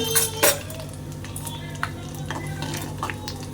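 Fenugreek seeds and dried chillies stirred in a hot oiled pan, a steady low sizzle under a few sharp metallic scrapes of the spoon, close up.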